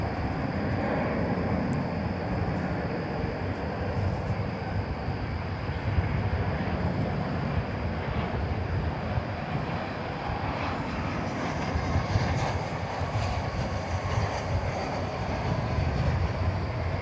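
A Volaris airliner taking off from DFW Airport bound for Mexico City, a loud, broad jet roar that holds steady and rumbles on throughout, heard from a moderate distance.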